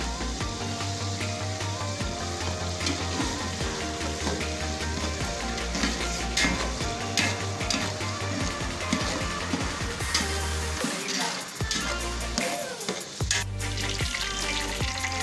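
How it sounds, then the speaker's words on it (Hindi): A large chopped onion sizzles steadily in hot oil in a pot for chickpea pulao, with a loud, continuous crackle close by and occasional scraping stirs, no voices. "अब मैं उसके अंदर प्याज डालने लगी हूँ।"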